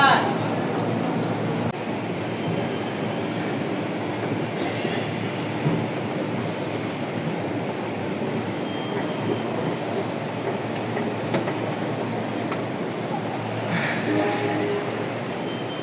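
A KRL commuter train at Cikarang station in Indonesia, its steady rail rumble and rolling hum running continuously up close, with faint background chatter from the platform.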